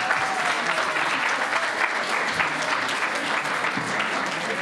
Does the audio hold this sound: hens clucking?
no